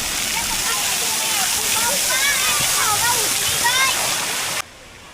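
Water pouring down over the entrance to a water park, a loud continuous splashing rush that drowns out distant voices and bird-like chatter, then cuts off suddenly.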